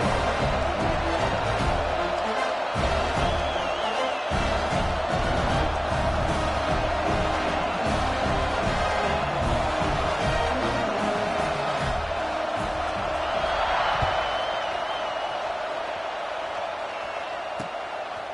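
Football stadium crowd roaring steadily before a kickoff, a dense sustained wash of cheering and shouting that swells slightly near the end and holds loud throughout.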